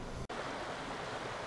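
A rushing creek at a campground, running high after heavy rain, fills the scene with a steady, broad roar of moving water, continuous and fairly close, with no voices over it.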